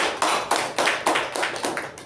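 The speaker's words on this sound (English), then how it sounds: "Let's give a round of applause to our President." A meeting audience gives a round of applause for its president: a sparse, uneven series of sharp hand claps that sounds near and fairly loud and carries no talk.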